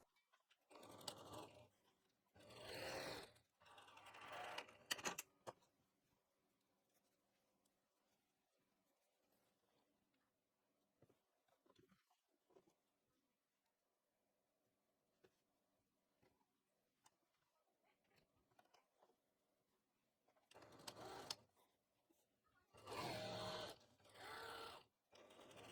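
A sewing machine stitches darts on a vintage bolero in two short runs, one near the start and one near the end, separated by a long quiet stretch with faint ticking.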